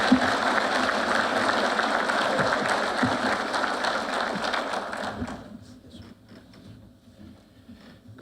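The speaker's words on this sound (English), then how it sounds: "please give a warm round of applause for Attorney General Josh Stein" An audience at a police academy BLET class graduation ceremony applauds Attorney General Josh Stein, a full sustained round of clapping that fades out after about five seconds, leaving a few scattered claps and room noise.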